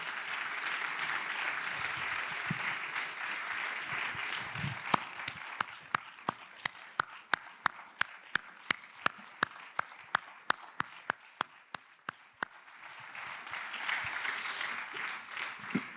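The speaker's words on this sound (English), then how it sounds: "Merci pour vos applaudissements" An audience in a theater applauds as film directors come on stage, settling into a steady run of evenly spaced, fairly quiet claps for several seconds, with soft murmuring before and after.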